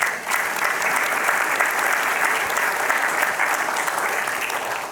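Warm, sustained applause from a church congregation, a full, even burst of many hands clapping that swells in and holds steady before tapering at the end.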